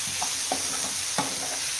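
Masala for methi aloo frying in a pan with coconut milk, a constant bright sizzle broken by a few soft scraping strokes as a spoon stirs it, close and alone.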